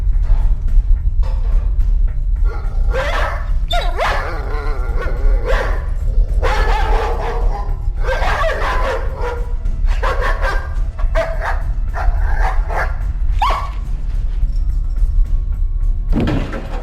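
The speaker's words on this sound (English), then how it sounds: "The dog is then heard barking loudly as if it just saw a strange creature." A dog barks loudly and repeatedly indoors in a house, sharp bursts over a constant low hum, sounding agitated as if alarmed by something strange.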